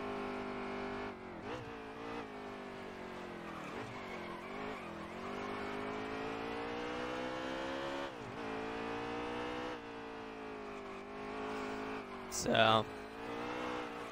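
A NASCAR Heat 3 race car screams through a qualifying lap at Sonoma, its engine note rising and falling steadily through gear changes, with a brief tire squeal near the end and a voice talking over it.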